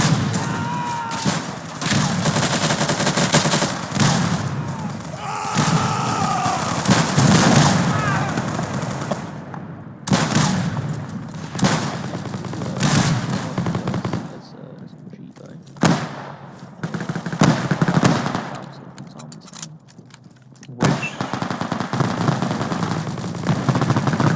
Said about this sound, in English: VBSH is basically just a bullet hose with a pump. It's a bit slower firing